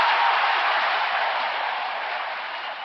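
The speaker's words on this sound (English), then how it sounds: "The crowd flew to its feet and cheered." Crowd applause at a 1972 McGovern convention speech, a dense wash of clapping and cheering that starts at full strength and slowly tapers over a few seconds, with no voices on top.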